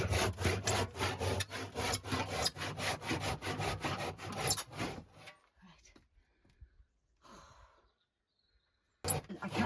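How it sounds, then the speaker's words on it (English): A hand saw cuts through old wooden timber in a house, rapid rhythmic rasping strokes up close for about five seconds, then quiet with faint breathing and a few small knocks. "This is the weirdest way to use a saw ever."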